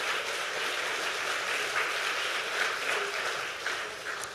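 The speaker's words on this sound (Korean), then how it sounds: "우리 다시 한번 격려의 박수로 한번 축복하겠습니다." A church youth congregation claps after a family's special song in worship, a steady wash of many hands at moderate distance that holds evenly for a few seconds.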